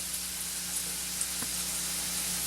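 A pan of ground spices sizzles with a steady hiss and faint crackle throughout, even and continuous, with no voices.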